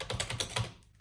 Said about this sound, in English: keyboard typing